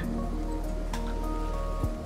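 Steady rain patters continuously in the Endzone A World Apart video game, a dense, even hiss with no talking over it.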